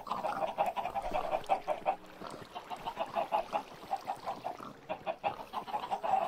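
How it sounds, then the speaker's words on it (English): Minecraft chicken sounds, a stream of quick clucks and squawks repeating in an irregular rhythm, fairly close but quiet, with no talking over them. "Goodbye forever, chicken."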